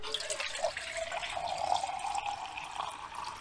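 Water pours steadily from a canteen into a cheap metal pot for an emergency stove, a continuous close trickle and splash lasting a few seconds with no talking over it.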